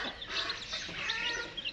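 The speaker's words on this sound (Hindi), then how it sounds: "तो ये है जी मुर्गी, और इस मुर्गी के साथ हैं जी 7 बच्चे।" An Aseel hen clucks with her seven chicks of about ten days old, soft repeated clucks mixed with the chicks' high peeping, close by and continuous.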